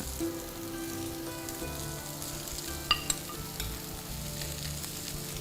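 Pre-boiled Chinigura aromatic rice goes into mixed vegetables frying in a pan, giving a low steady sizzle with faint stirring and a couple of sharp clinks midway, close and fairly quiet.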